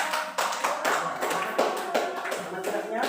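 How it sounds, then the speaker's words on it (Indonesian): A class of schoolchildren claps hands together in a lesson, a near, rhythmic patter of many small claps in quick repeated bursts, with voices mixed in. "Ya, tepuk tangan dulu."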